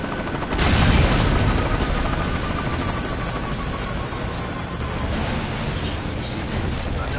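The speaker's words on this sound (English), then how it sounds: "Get on the chopper." A helicopter in the video game Metal Gear Solid V roars loud and constant, its rotor wash steady throughout, with a brief swell near the start amid distant gunfire-like bursts.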